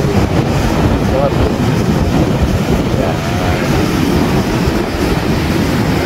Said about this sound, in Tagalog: Lakas pa rin ng alon, no?